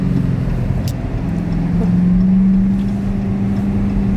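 A Dodge Hellcat driving, heard as a loud, steady low engine hum with a rising tone and road noise, close and continuous, with no talk over it.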